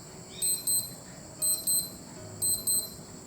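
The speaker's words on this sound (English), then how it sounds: "Loud and functional alarm, usable even in noisy environments." Beeping alarm of a cheap $13 digital watch: three loud pairs of high electronic beeps in a steady, evenly spaced rhythm, close and clean with nothing else behind them.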